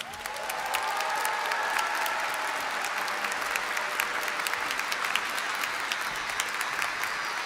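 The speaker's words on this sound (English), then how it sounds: "Now please join me in a round of applause to congratulate them all." A large audience at a psychology commencement gives graduates a round of applause: a full, sustained wall of clapping that swells within the first second and holds evenly, with faint crowd voices mixed in.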